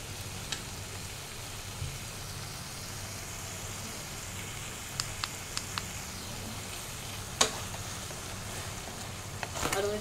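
Masala frying in oil in a pan, a soft continuous sizzle with faint crackle and a few sharp clicks and pops near the end, close but quiet.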